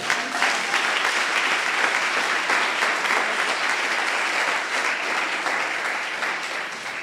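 A church congregation at a seminar applauds and cheers for the Lord Jesus, a dense, steady wash of clapping with voices mixed in that holds strong for several seconds before easing slightly at the end.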